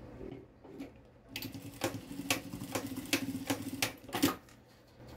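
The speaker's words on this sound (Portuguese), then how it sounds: "a gente passa uma costurinha bem reforçada" A sewing machine runs in short rattling bursts, stitching elastic onto a fabric pencil case with a reinforced seam. The clicks are close and moderately loud after a quiet start.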